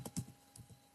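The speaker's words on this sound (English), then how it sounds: "Now click on the search bar and type in speed" A few soft keystrokes tap on a computer keyboard, quiet and close, in a brief irregular burst as a web address is typed into a browser search bar.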